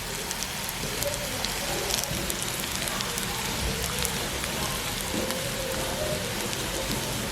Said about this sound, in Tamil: சீரகத்தை உடனே கிளற வேணாம். அந்த எண்ணெயில் சாடியாக பொரியட்டும்.